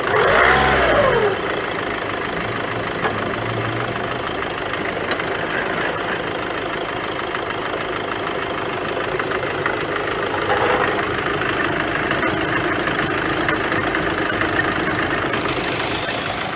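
A car engine with a faulty dual-mass flywheel on a seven-speed DSG gearbox revs up sharply for a moment at the start, then drops into a steady, rough idle that rumbles on.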